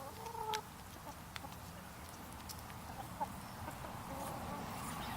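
Chickens in a backyard coop give faint, scattered clucks and a couple of short calls over a steady low background, with no talking.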